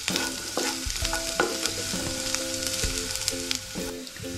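Chopped onion, garlic and ginger fry in a pan on the stove, with a steady sizzle and repeated scraping strokes of a spoon as they are stirred, close and clear.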